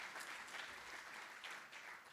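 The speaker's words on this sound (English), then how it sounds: "Give them another round of applause" Sustained applause from an audience at an annual meeting, a thick wash of many hands clapping at steady volume throughout.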